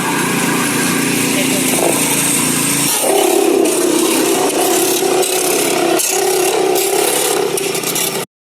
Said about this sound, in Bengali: এই দেখো মেশিন চালু, আর এই যে আমরা গন্না নিয়ে এসেছিলাম সেটা রস হচ্ছে।